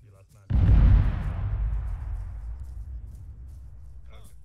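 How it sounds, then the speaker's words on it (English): A massive explosion in the military shooter Arma 3 booms suddenly, loud and deep, then rumbles and fades slowly over several seconds, with brief voices before and after. "Anybody get eyes on that fucking massive explosion?"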